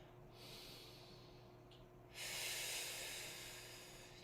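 Slow, deep breaths during a chair stretching workout, two long airy inhales and exhales close to the microphone, hissy and steady with no talk.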